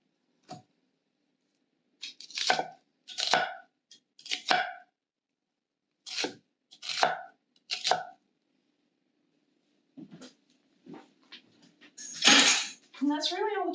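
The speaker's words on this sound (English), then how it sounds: "we're just going to chop this up into nice pieces for a tomato stew" A knife chops tomatoes on a cutting board in short bursts of quick, crisp strokes, with pauses between groups; close and fairly quiet, no talking.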